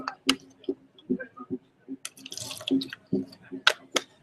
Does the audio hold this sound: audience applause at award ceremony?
no